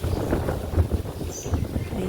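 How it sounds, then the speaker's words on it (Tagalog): Strong wind gusts buffet across a rooftop garden of potted bougainvillea, rough low rushing and microphone buffeting in uneven bursts. "ang hangin dito sa bubong. Napakahangin."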